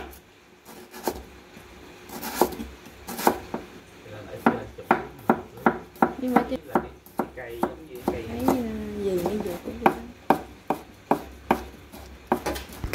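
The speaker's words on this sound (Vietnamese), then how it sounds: "Tất cả các nguyên liệu thì mình sẽ đem đi cắt nhỏ hết luôn nha cả nhà." Knife chopping vegetarian dish ingredients into small pieces on a board, a run of sharp, close, regular knocks speeding up in bursts, with brief rustles between.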